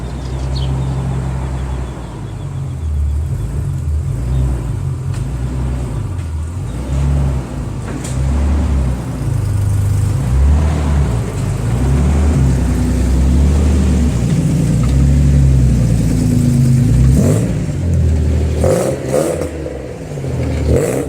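A drift car's engine idles and burbles loudly and close up as it is pulled out, with uneven revs rising and falling throughout and occasional clatter near the end.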